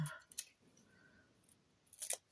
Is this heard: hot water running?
no